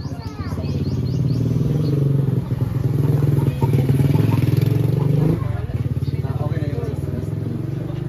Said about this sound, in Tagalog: may dadaan sa motor